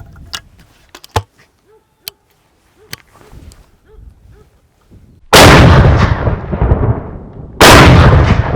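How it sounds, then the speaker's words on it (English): Beretta 686 over-under shotgun firing its top barrel outdoors: two loud, sharp blasts a couple of seconds apart, each with a long rolling decay, following quieter clicks and handling noises. "I'll switch it over and shoot top barrel first."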